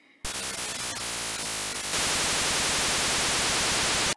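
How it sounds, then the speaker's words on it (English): The WonderSwan console's pseudo-random noise generator produces harsh, loud static, first in a rougher, buzzy mode with repeating texture, then switching to a denser, steady hiss, ending abruptly. "The second one sounds like looped noise."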